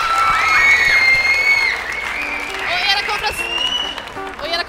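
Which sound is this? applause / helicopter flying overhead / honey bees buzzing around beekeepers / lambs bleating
applause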